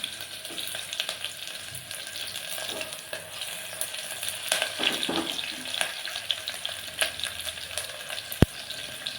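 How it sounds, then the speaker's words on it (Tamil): Mustard seeds and onions frying in oil for coriander rice, a continuous close crackling sizzle with sharp pops and scraping stirs, and a louder click near the end. "கடுகு நல்லா பொரிய விடுங்க. அதுக்கப்புறம் வெங்காயம் போடுங்க."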